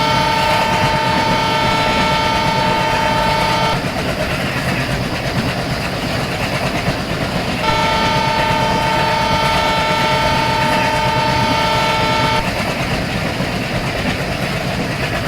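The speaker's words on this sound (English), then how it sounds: "So right now our train just skipping up by the BB Nagar at platform number 2." A diesel locomotive in an Indian Railways train simulator game runs steadily through a station on the main line, with a continuous loud rumble, clattering wheels and a sustained horn-like tone sounding twice.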